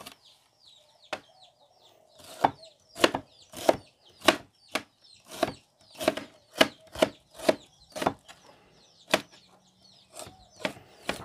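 A knife cuts through onion on a cutting board while making a Padang-style egg dish, a series of sharp, evenly spaced chops that speed up in the middle, close and crisp with no talking.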